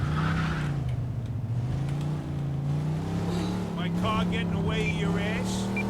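A car engine in the video game Mafia 2 drones steadily at a low, sustained pitch, rising slightly as it drives, with a person talking over it throughout.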